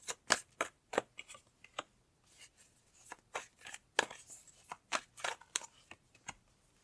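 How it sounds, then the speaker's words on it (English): Tarot cards are shuffled and drawn from a deck, giving a string of quick, crisp papery flicks and snaps in irregular bursts, fairly close and quiet, with no voices. "Okay, I'm going to pull some cards."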